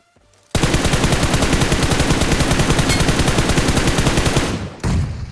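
Sustained rapid automatic gunfire rattles nonstop for about four seconds in a battle royale video game fight, close and loud, followed by a short pause and a second burst.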